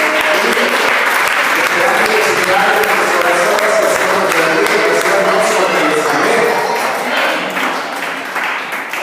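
A church congregation breaks into sustained, loud applause that fills the room for about nine seconds, with some voices mixed in, then thins slightly toward the end.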